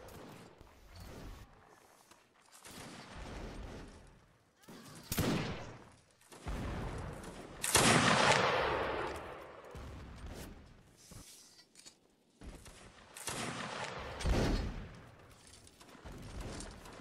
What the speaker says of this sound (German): Schuss, Frenchy.